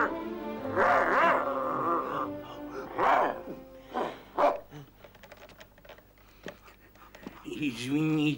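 A dog whimpers, whines and yelps in a 1987 Soviet science-fiction television programme. Drawn-out, wavering cries and short barks come across several seconds, ending in a rising, howl-like whine.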